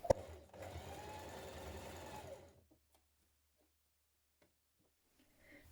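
A sewing machine stitches a seam on a knit sweater, humming steadily for about two seconds at close range before stopping, followed by near silence and a few faint clicks.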